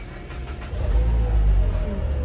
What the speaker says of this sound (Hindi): गाड़ी को स्टार्ट करते हैं